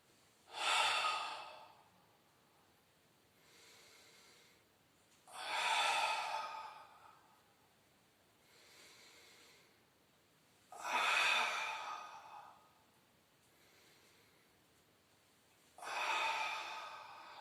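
Strong breaths during a Pilates abdominal exercise, with four loud, forceful breaths spaced evenly apart and softer breaths between them, close and unaccompanied by talk.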